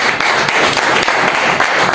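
A church congregation applauds in praise during a sermon, with dense, loud, sustained clapping from many hands close by.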